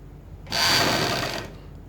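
A sewing machine stitching pleats on a salwar runs in one short, close burst of about a second, a steady whirring hum that starts and stops abruptly against a quiet background.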